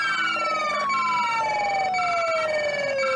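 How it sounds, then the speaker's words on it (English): A loud electronic police siren in a roleplay video game wails with a steady descending tone, layered with a pulsing two-tone yelp, close and continuous. "Also guys, we got new sirens."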